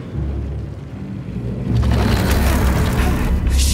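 A canister in the video game Atomic Heart explodes in a deep, loud boom that swells into a sustained roaring rumble with crackling debris, heavy and close throughout.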